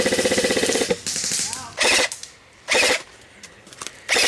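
A Tokyo Marui Type 89 airsoft rifle fires several sharp, close bursts separated by pauses, each a rapid mechanical rattle, with faint voices in the gaps.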